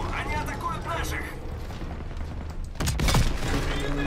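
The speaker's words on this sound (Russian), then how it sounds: "Слышу стрельбу!" Gunfire in the World War II shooter Call of Duty WWII, a sudden loud burst of shots breaking in late over a busy battlefield backdrop, with voices talking throughout.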